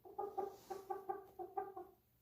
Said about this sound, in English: the little chickens do like to make their noises as they go about